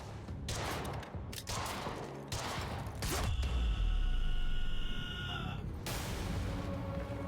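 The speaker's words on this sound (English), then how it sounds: "Stop fucking shooting at us!" Quantum Break video game firefight: bursts of gunshots and sharp impacts come in irregular clusters, with a swelling rumble and whooshing effects in the middle, moderately loud throughout.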